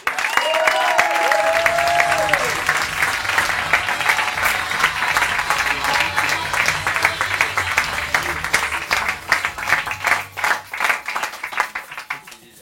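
Audience applause greeting a speaker called to the stage at a French talk on energy and success, a dense, sustained clapping that starts loud and thins into scattered claps near the end, with a brief tonal sound early on.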